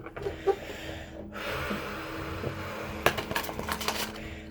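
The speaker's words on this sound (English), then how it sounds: "let's get a great shuffle going here." A tarot deck being shuffled by hand, with soft papery riffles and card slides at close range, ending in a brisk burst of crisp card snaps.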